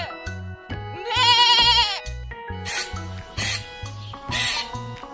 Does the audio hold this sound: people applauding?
no